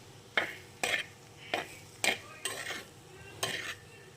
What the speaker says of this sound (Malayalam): ഏത് പച്ചരി ആയാലും വേവിച്ചിട്ട് ഇത് ഇട്ട് കൊടുത്താൽ മതി. നന്നായിട്ടൊന്ന് മിക്സ് ചെയ്തെടുക്കണം.